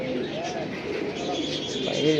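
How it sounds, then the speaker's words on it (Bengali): A pair of silver pigeons cooing close by, with several soft throaty rolling coos over a quiet background hum, and a voice talking faintly beneath. "দর্শক দেখেন সিলভার পেয়ার সুপার কবুতর"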